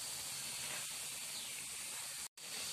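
Bread snack frying in hot oil in a pan gives a steady, close hiss and sizzle that holds evenly throughout, with one brief dropout near the end.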